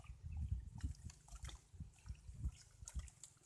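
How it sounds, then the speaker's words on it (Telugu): About a litre of melted black jaggery syrup is poured into a jeevamrutham farm mixture, a close, irregular gurgling trickle with soft splashes throughout. "ఈ 1 లీటర్ అయినటువంటి పానకాన్ని కూడా ఇందులో కలుపుకోవాలి"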